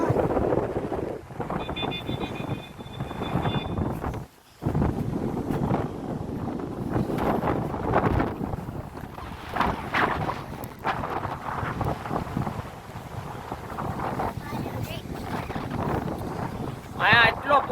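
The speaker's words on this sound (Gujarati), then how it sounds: "અહીંયા એટલો પવન ને કે અમારો અવાજ આમ પવનનો જ અવાજ આવશે" Strong seaside wind at Madhavpur buffets the microphone with loud, uneven rumbling gusts that swell and dip throughout, with a brief lull early on and voices faintly buried beneath.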